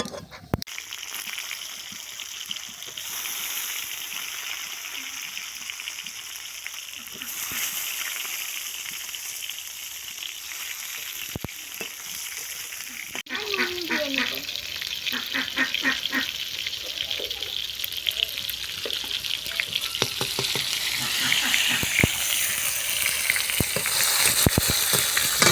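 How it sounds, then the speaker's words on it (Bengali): Tomatoes frying in hot oil with chillies and five-spice for a green coriander chutney, a steady sizzle that grows louder and busier after the tomatoes drop into the pan, with occasional stirring clatter. "এবার টমেটোগুলো তেলে দিয়ে দেব।"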